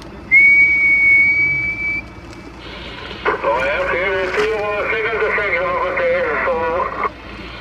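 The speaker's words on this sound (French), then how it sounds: "Allez, je te fais la sifflette." A whistle sent over a CB radio during a mobile antenna test: a single steady tone first, then a warbling, rising and falling whistle carried through the radio for several seconds, with brief radio noise between.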